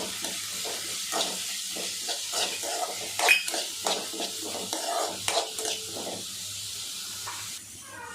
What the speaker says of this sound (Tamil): பச்சை மிளகா உப்பு இது எல்லாத்தையும் நல்லா வதக்கி எடுத்துடலாம்